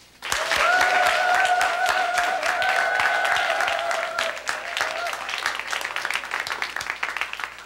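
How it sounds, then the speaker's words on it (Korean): An audience in a 1997 broadcast studio claps in dense, sustained applause that fades after a few seconds into scattered claps, with a voice speaking over the start. "박수 쳐줘라."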